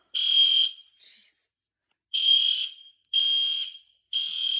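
A church fire alarm blares in loud, steady electronic tones, sounding in four separate bursts with short silent gaps between them and no voices.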